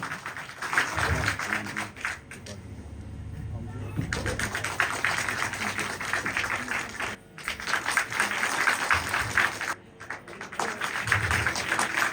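A crowd at a village Ramlila staging of the Ram Banvas episode, held by a gram panchayat committee, claps to welcome guests: dense, sustained applause running through most of the stretch, mixed with speech and a brief lull partway.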